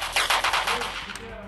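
Rapid bursts of M4 rifle fire with bullet impact effects in the mobile game GTA SAMP on Android, several close, sharp shots in quick succession followed by a fading tail and a faint voice.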